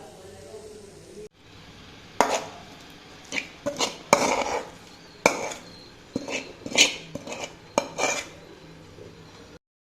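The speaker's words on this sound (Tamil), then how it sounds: "வெறும் வெங்காயம் மட்டும் போட்டு வதக்கி மாவில் போட்டு தோசை ஊற்றிக்கலாங்க. நல்லா வதக்கலாம்." Onions are sautéed in a pan for adai dosa batter, with a series of irregular metallic scrapes and clanks from a utensil against the pan over a quiet background.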